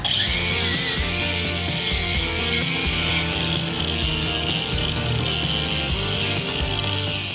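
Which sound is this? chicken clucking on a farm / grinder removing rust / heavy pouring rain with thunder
grinder removing rust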